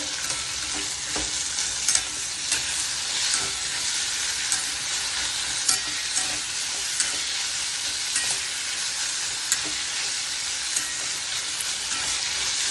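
Steady broadband sizzle of frying in a pan on a medium gas flame, with soft scrapes and clinks of stirring repeating throughout, close and fairly loud, no voices.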